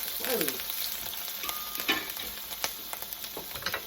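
Celery sizzling and frying in a pan for risotto, a steady crackling hiss with a few stirring scrapes throughout, fairly close and continuous, with no talking.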